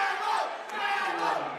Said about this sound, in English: they're chanting travel